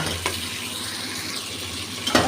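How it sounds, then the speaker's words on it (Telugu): Tomatoes hit a hot pan and sizzle steadily alongside stirring, a close, continuous frying hiss with a couple of brief clatters of utensil against the pan. "ఇప్పుడైతే టమోటాలు వేసేస్తున్నాను"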